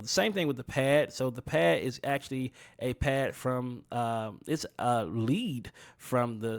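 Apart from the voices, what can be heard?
No everyday noise stands out behind the speech.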